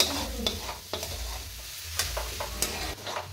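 Jaggery filling for steamed modak is stirred and sautéed in a pan as it melts, with repeated scraping strokes over a soft sizzle, close and fairly quiet.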